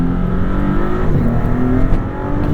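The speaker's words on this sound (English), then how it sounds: "all of the engine noise is sucked into the turbos" Maserati MC20 with a 621-horsepower twin-turbo engine accelerating, a loud, steady muted engine drone and road roar heard from inside the car, rising slightly without sharp exhaust bark.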